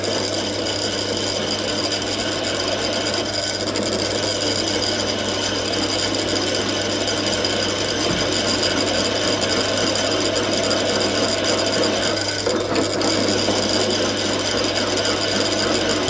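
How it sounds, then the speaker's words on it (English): A drill works through two metal garden-trailer parts clamped together, lubricated with cutting fluid, giving a steady continuous grinding whir with a constant motor hum throughout, loud and close. "I'm actually drilling it using the other one as a pattern."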